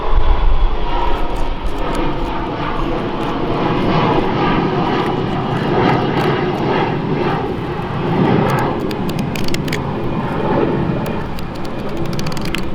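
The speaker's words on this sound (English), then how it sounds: "Sorry about the plane noise" An airplane passes overhead outdoors, with a loud, steady broadband engine roar rumbling throughout with no one talking.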